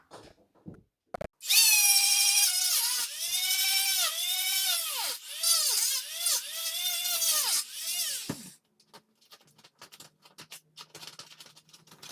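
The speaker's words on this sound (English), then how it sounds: "let's look at how we can take the Dremel and cut this right out right here" A Dremel rotary tool cuts into plastic on a Sena 50S modular motorcycle helmet, a loud high-pitched whine that bogs and recovers in repeated dips for several seconds, then stops, leaving faint scratchy handling noises.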